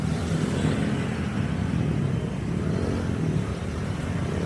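Heavy road traffic fills Barangay Basak, Lapu-Lapu City, with a continuous low rumble of car and motorcycle engines at rush hour, steady and fairly close throughout, with no clear talking.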